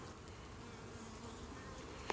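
Italian-looking honey bees buzz faintly and steadily on a hive frame, a soft continuous drone with one brief sharp click near the end.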